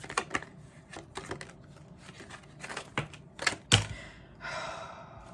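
A deck of tarot cards being shuffled by hand, a run of quick, crisp riffling clicks and flicks, close and fairly quiet, ending in a brief swishing burst.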